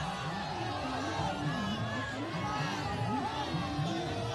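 Crowd of supporters at a political roadshow rally in Lucknow, a steady distant babble of many voices with scattered louder calls and chants throughout.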